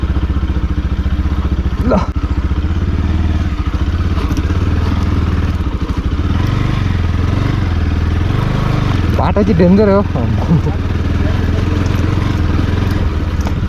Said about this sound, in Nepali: हाम्रो अपाची घोडा बाइक हिँडिसकेको छ